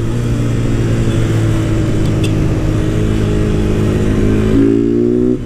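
A Honda Titan 160 motorcycle engine runs steadily and loudly up close, holding a constant drone before rising in pitch as it accelerates near the end.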